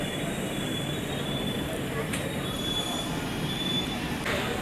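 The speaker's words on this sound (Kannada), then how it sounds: "ಬಂದೇ ಬಿಡ್ತು ಗೋಲ್ ಗುಂಬಜ್ ಎಕ್ಸ್ಪ್ರೆಸ್ಸು ನೋಡಿ, ಅಲ್ಲಿ ಬರ್ತಾ ಇದೆ." The Gol Gumbaz Express pulls into a crowded station, wheels squealing in a long high metallic screech over a steady rumble of rolling railcars, with faint voices nearby.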